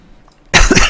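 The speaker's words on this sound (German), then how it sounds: "ich hab nur Husten." A single loud, close cough bursts out after a near-silent moment, sharp and throaty.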